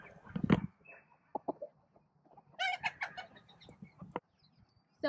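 A Silkie rooster gives a short series of soft clucks and a brief crow-like call, close and fairly quiet against a calm background.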